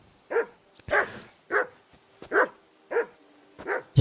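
Repeated barking from a dog in the medieval game Kingdom Come: Deliverance II, about seven sharp barks in a steady rhythm at close range, with no voices.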